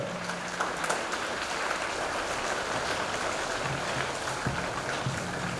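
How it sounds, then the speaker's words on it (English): Steady applause from a crowd, a dense continuous patter of clapping at moderate loudness, with no one speaking over it. "Let's give a big round of applause."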